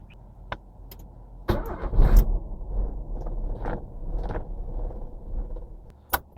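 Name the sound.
Nissan Sentra B14 car engine being started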